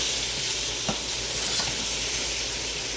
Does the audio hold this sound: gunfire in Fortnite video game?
no